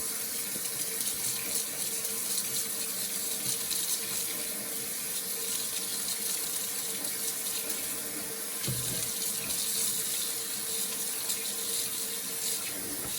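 Water runs steadily from a tap over alfalfa or arugula sprouts for a long stretch, with a brief splash or shift in the flow partway through; no talking.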